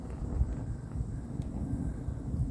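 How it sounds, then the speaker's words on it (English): Gusty wind buffets a microphone outdoors beside a charcoal grill being lit for ribs, a low rumbling roar that swells and dips unevenly throughout. "A little bit windy today."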